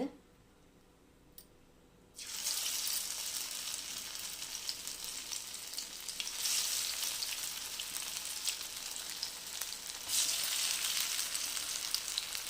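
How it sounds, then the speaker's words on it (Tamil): Soya chunk vada hits hot oil after a brief quiet moment, then a loud, dense sizzle of deep frying carries on, swelling twice as more pieces go in. "இப்போ இந்த வடையை சுட்டலாம்"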